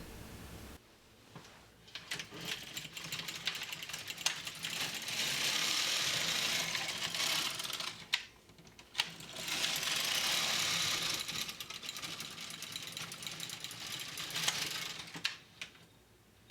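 An LK150 knitting machine carriage sliding across the bed knitting rows of a triangle shawl with eyelets, giving repeated long raspy mechanical swishes with clicking, each pass lasting a few seconds with brief pauses between.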